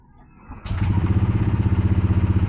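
A 2021 Yamaha NMAX V2 scooter with a check-engine fault is cranked. A short whir catches into a loud, close, steadily pulsing idle with no talking.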